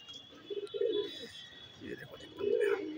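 Pigeons coo in low, soft bursts, close and moderately loud, with someone talking between and over the calls.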